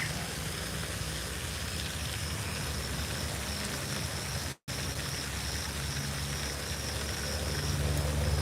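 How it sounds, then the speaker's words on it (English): Rain falls in a steady, even hiss with a dense patter of drops that continues throughout, broken only by one brief moment of silence. "it's raining"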